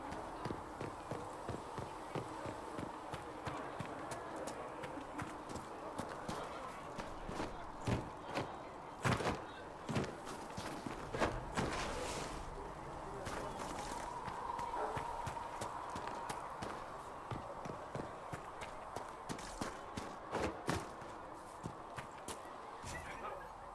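Horse hooves clip-clop steadily in the video game Dragon Age Inquisition, a dense run of hoofbeats with a few sharper, louder strikes, under game music and ambience with occasional speech.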